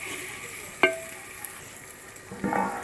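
Meat is added to fried onions in a pot for village-style handi biryani, giving a quiet sizzle broken by two short scraping stirs a couple of seconds apart.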